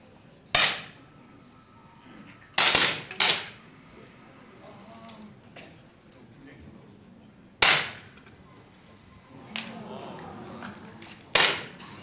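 Sharp 10m air pistol shots ring out in a men's competition final at the ISSF World Cup in Changwon, several separate cracks spaced seconds apart in a quiet hall with faint background murmur.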